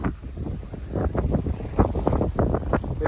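Gusty wind sweeps across a hilltop viewpoint at Dandoba hill station near Sangli, buffeting the microphone in uneven, rough bursts that swell and fade throughout, with no one speaking.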